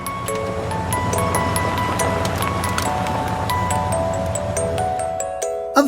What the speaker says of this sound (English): Monkey hears bells ringing.